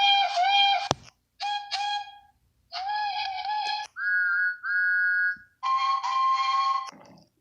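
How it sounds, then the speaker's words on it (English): A series of bright, tonal whistle blasts, about six in a row with short gaps, some wavering in pitch, loud and close. "Blow your whistles, guys."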